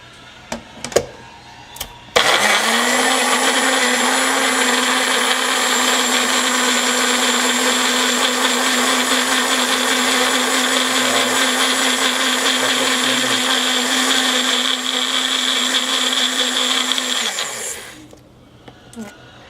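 A blender purees banana and strawberry into smooth baby food, running as one loud, steady whir for about fifteen seconds before cutting off, with a few small knocks just before it starts.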